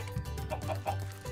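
Chickens cluck in the blocky survival game Minecraft, a short run of three or four clucks over a steady low background hum, with no voices.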